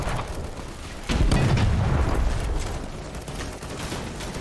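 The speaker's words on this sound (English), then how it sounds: "All right, there's an artillery." Artillery fire in the video game Fallout New Vegas with The Frontier mod, a heavy booming blast that rumbles loudly for a couple of seconds amid a continuous din of distant shots and battle noise.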